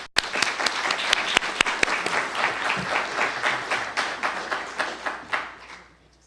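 An audience at a conference opening session applauds to welcome a speaker, with steady, close clapping that thins out and fades over about six seconds.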